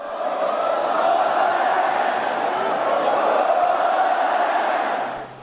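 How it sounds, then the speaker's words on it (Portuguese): Flamengo supporters fill a stadium with a sustained, loud collective roar of chanting during a 3-0 win over Botafogo, steady throughout and fading at the very end. "Com 3-0, a torcida do Fla passou a gritar olé"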